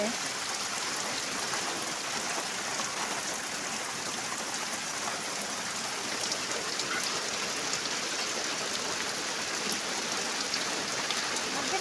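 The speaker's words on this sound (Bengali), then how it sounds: "বৃষ্টি নেমে গেছে খুব জোরে ফিরে আবার বৃষ্টি পড়া শুরু হয়ে গেছে" Heavy rain pours down in a constant, dense hiss that drums steadily on surfaces, close and unbroken for the whole stretch with no clear speech.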